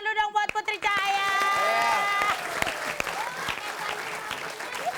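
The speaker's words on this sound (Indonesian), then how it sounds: "Kita tepuk tangan dulu dong buat Putri Cahaya" A studio audience at a TV game show applauds for Putri Cahaya. Loud, sustained clapping and crowd noise start just after a sung or spoken voice at the opening and continue to the end.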